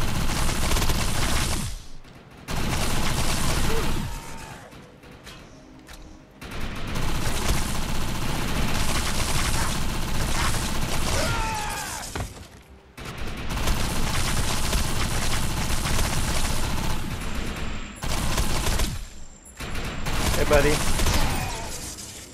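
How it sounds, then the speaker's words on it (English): Gunfire from a paralyzing gun in the video game Defiance, sustained loud bursts with short gaps between volleys, mixed with game effects. "I like this gun because it pretty much paralyzes them"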